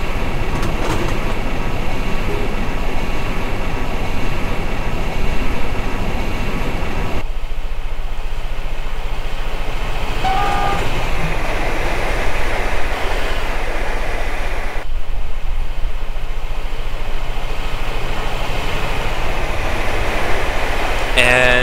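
An ICE2 high-speed train runs in Train Simulator 2013 on the Hamburg–Hannover line, giving a loud, steady rumbling roar with a constant hiss, broken by two abrupt shifts in tone.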